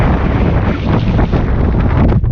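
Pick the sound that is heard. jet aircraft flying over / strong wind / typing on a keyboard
strong wind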